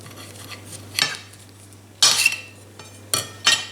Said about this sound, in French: je vais couper la partie supérieure de la pomme de terre